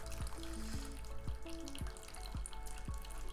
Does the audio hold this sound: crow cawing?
no